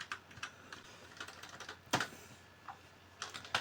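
Quiet, close computer keyboard typing, with scattered single keystrokes and short clusters of clicks, including a sharper louder tap near the middle, during copy-and-paste shortcuts.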